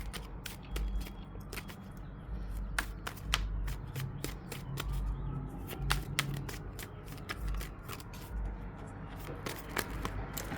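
Tarot cards being shuffled and drawn, a steady stream of light crisp taps and slides, close but quiet over a faint low background hum.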